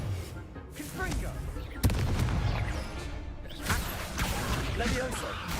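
Fiery Confringo spell blasts burst during a wizard video game duel, a sharp loud crack near the two-second mark followed by rumbling impacts and crackle, with shouting voices over the combat.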